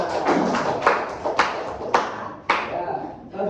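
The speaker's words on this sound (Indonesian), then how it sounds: "Beri tepuk tangan untuk Mbak Ana." Scattered handclaps from students in a classroom, a few distinct sharp slaps spaced about half a second apart, close and mid-loud, mixed with voices in the room.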